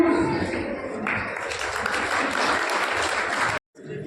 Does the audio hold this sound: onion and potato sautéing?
no